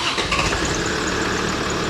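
A car engine cranks and catches, settling into a rough mid-pitched idle that rumbles steadily for a couple of seconds.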